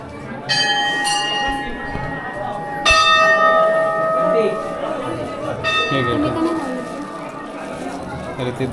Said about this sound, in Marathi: इथे बेल आहे ते.